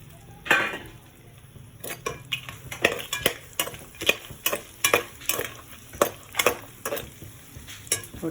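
Masala fries in butter in a pan while a metal spoon stirs it, giving a soft sizzle under repeated scraping and clinking strokes in an uneven rhythm, close by and with no talking.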